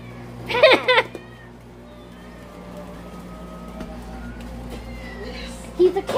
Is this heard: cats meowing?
yes